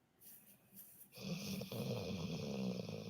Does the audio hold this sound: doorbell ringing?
no